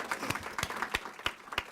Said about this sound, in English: You may applaud if you know Juan.